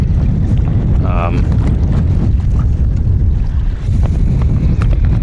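Strong wind buffets the microphone in a loud, low rumbling roar at a lagoon, gusting throughout, with a brief voice-like tone early on.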